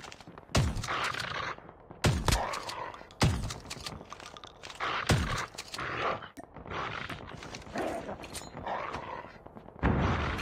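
Shotgun blasts in the Call of Duty Mobile battle royale, a run of sharp, loud gunshots, about six in ten seconds at irregular intervals, with game sounds continuing between them.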